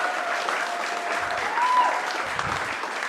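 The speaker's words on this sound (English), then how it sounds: "So let's give a round of applause to him." Congregation at a Sunday church service gives a round of applause for the sermon giver, brief steady clapping from a roomful of people, even in loudness throughout.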